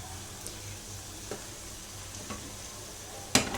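Chicken vegetable spring rolls deep frying in hot oil, a steady low sizzle with a few soft clicks and one sharp clatter near the end, no voices.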